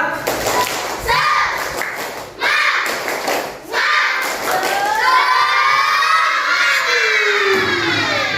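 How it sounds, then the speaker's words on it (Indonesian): A fifth-grade Indonesian class does a rhythmic spirit clap, with bursts of patterned clapping and thumps mixed with loud children's chanting and shouting in a lively room. "Tepuk semangat."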